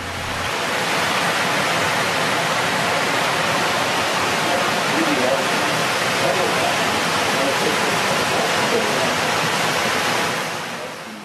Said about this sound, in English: This weir marks the last lock on our adventure.